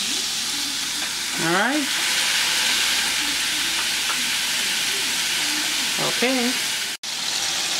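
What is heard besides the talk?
hamburger patties frying and sizzling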